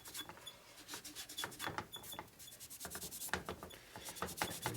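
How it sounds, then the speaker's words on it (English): Residue is rubbed off the outside of a 1965 Harley-Davidson 74ci FLH panhead engine part during a rebuild, making soft, repeated scrubbing and rasping strokes, faint and close, in an uneven back-and-forth rhythm. "make sure you rub the rough stuff to the outside of the motor"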